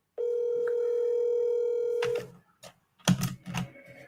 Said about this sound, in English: I've been using a triple line dialer for 10 years.